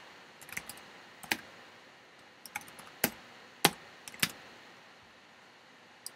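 Someone types a file name on a Mac computer keyboard, a sparse, uneven string of crisp close key clicks over a quiet background hiss.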